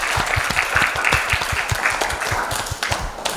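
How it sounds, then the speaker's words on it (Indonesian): Audience applause at an Islamic junior high school Ramadan event, steady dense clapping with sharp individual claps standing out, moderately loud and continuous throughout. "Tepuk tangan dulu untuk kita semua guys."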